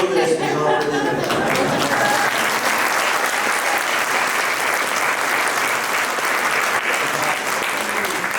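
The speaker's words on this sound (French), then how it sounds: "tu laisses les gens applaudir." Audience at a stand-up comedy show claps loudly and continuously, a thick, even wash of many hands that holds steady for over eight seconds and eases slightly toward the end.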